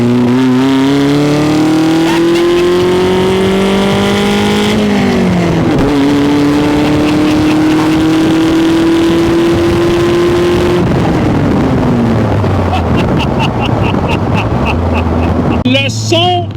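A Lotus Super 7–style roadster, a Canadian-built Fejer Super 7, revs hard as its engine accelerates, the loud, close exhaust note climbing steadily in pitch, dipping briefly at a gear change, then rising again before easing off.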